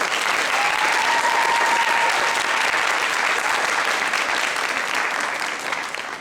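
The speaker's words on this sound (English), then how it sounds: "Let's give her a hand of applause." Sustained applause from a choir concert audience, steady and full throughout, tapering slightly near the end.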